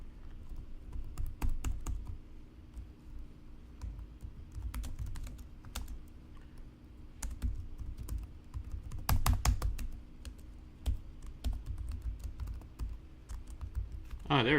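Someone types on a computer keyboard while one key is not working, producing quiet, irregular clicking bursts with pauses between them. A low hum runs underneath throughout.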